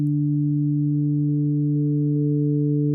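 Hammond B3 tonewheel organ sounding a steady sustained chord with the 5 1/3 drawbar overtone added, pure sine-like tones held evenly without variation, alone and clear.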